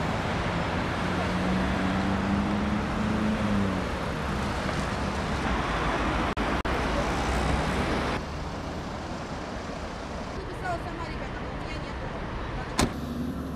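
Cars speed along a road shoulder beside a traffic jam, a dense roar of passing engines and road noise with a rising whine and brief sharp sounds. A voice talks over the traffic.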